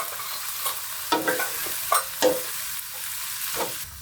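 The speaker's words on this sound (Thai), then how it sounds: "หน่อไม้นี่ผ่านการต้มสุกมาแล้วนะครับใช้ลงไปผัดรวมกันกับหมูสับครับ" Boiled bamboo shoots and minced pork stir-fried in a hot pan: continuous sizzling with repeated scraping and tossing strokes of a spatula, close and fairly loud.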